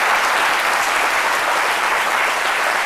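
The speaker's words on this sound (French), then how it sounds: "Je crois que ça mérite pour la qualité de l'écriture quelques applaudissements." Studio audience at a French daytime talk show breaks into loud, dense, sustained applause, a steady wash of clapping with no voices over it.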